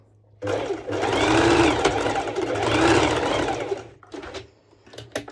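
A sewing machine stitches a sporty top with mesh overlay in two continuous runs that whir loud and close, then drops to a few short bursts of stitching.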